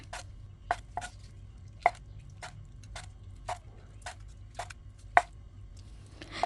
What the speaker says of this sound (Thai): ต่อไปเราก็จะนำมาหั่นค่ะ หั่นให้เป็นชิ้นพอคำค่ะ